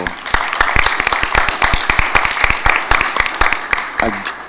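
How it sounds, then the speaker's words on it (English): An audience applauds steadily, with dense, continuous clapping that fills the room at a lively, even level. "I think we can applaud Hamza for"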